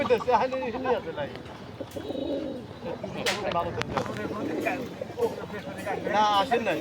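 Pigeons cooing at the Sherpur pigeon market, a few soft rolling coos rising and falling over a steady bed of crowd chatter and people talking nearby.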